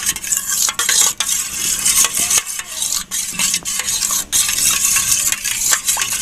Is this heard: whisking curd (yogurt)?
yes